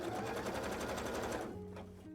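Sewing machine stitching a big zigzag, a fast, close rhythmic chatter of needle strokes that slows and winds down near the end.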